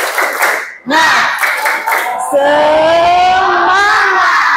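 A classroom of students performs a rhythmic spirit clap, with quick patterned claps that give way to a loud unison shout, close and energetic.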